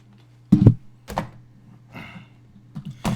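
A computer keyboard being lifted and set away, giving several dull thunks and knocks spaced over a few seconds against a low steady hum, fairly close.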